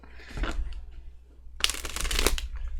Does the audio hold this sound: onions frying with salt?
no